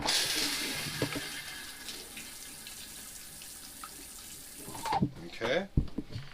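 Water mixed with pink antifreeze runs through an RV travel trailer toilet, a steady rushing flow for several seconds that stops abruptly, followed by brief clunks and a voice.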